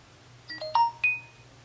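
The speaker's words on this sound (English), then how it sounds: "Notification sound." A brief electronic notification alert from an LG Sunrise phone, a few short pinging tones, clear and fairly soft, ringing out against near silence.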